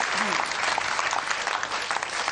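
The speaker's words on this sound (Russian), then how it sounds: "Ваши аплодисменты." Warm, continuous applause from an audience at a comedy duo's performance, a dense steady patter of clapping heard at moderate loudness across the whole stretch.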